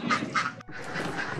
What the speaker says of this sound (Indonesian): ini kandang bebek peternakan Pak Ipul nih